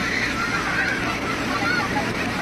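Strong floodwater rushing in a steady broadband roar, continuous and close for the whole stretch, with a faint murmur of voices underneath.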